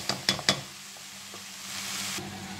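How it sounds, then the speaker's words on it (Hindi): Tomato paste masala fries in oil in a pan for bhindi, a soft steady sizzle preceded by three sharp clinks of a spoon against the pan, with no talk. "इसको अच्छे से हम भून लेते हैं ताकि ऑयल सेपरेट हो जाए।"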